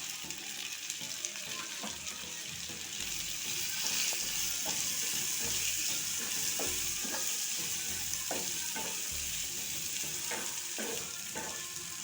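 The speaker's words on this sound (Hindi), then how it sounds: "अब इसमें हम महीन कटा हुआ प्याज डाल देंगे।" Finely chopped onion with cumin and grated garlic frying in a pan for restaurant-style paneer butter masala, a steady broadband sizzle with repeated scraping stir strokes, close and continuous, no talking.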